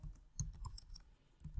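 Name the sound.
computer keyboard typing a title in PowerPoint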